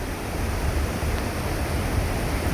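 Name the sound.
high river water rushing below dam shutter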